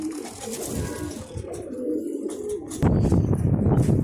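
Pigeons coo steadily at close range while being given grain and water, the soft rolling calls repeating over constant background noise that grows louder and denser toward the end.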